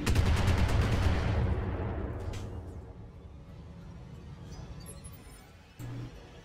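Gunfire in the BattleTech video game, a loud opening burst of heavy weapon fire that rolls off into a fading rumble, with a short metallic clink near the end.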